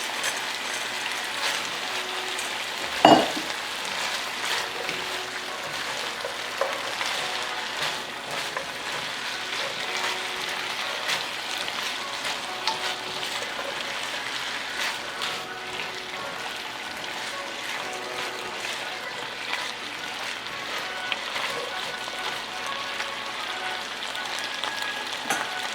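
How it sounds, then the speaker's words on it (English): String beans fry in a pan with a steady, dense sizzle that holds throughout. A brief knock sounds near the start, then the crackling continues evenly at moderate loudness. "Now we'll add the beans."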